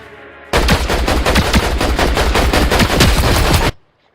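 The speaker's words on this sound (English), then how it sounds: "So I open up here with the AR and then beam them." Assault rifle fire in Fortnite ranked play: a loud, sustained burst of rapid automatic shots lasting about three seconds, close and alone, cutting off abruptly into near silence.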